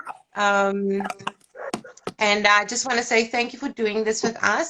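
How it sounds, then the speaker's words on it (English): Dogs bark and yip in the background at night inside a home, partly masked by someone speaking clearly in the foreground. "Apologies about the dogs in the background."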